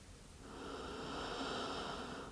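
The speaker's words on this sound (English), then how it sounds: "Take one more deep breath here." A single slow, deep breath during a beginner yoga twisting practice, an airy breathy rush that swells and holds close to the ear for about two seconds.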